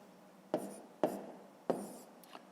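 Pen strokes on paper during a fifth-grade maths exercise: three distinct scratchy bursts at steady intervals, each fading out, then a lighter fourth stroke, close and quiet with no talk.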